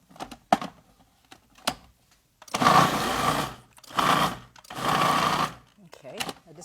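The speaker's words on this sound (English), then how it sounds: "I just wanted to grind a little bit of it in there" A countertop grinder runs in three loud, steady bursts of about a second each with short gaps between, grinding a small amount of ingredients during a live TV cooking demonstration; brief speech and clatter come before the bursts.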